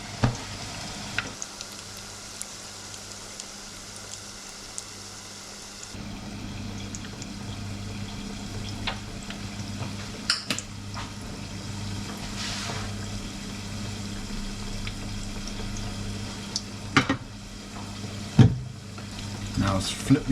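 Mackerel fishcakes fry in a pan with a steady, soft sizzle that runs throughout, broken by a few brief clicks and scrapes.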